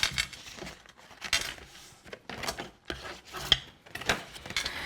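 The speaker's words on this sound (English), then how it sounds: "take your bone folder and give these a nice good burnish" Bone folder rubbed firmly along the score lines of card while making an exploding box, giving repeated close scraping, rasping strokes in an irregular rhythm, alone without talk.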